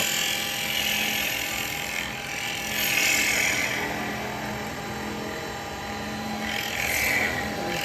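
A carbide tool cuts wood on a lathe, giving a steady grinding whir that holds close and even throughout, with a few brighter swells of scraping.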